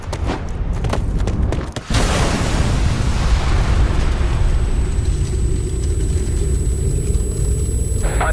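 A bomb explosion in Ghost Recon Future Soldier: a sharp blast followed by a heavy, sustained rumbling roar that fills the rest of the moment, loud and close, with no talk.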